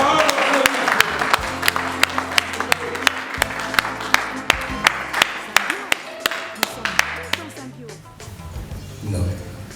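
A church congregation at a healing service in Roubaix claps in a steady rhythmic beat, sharp repeated hand claps over crowd noise and voices, fading toward the end.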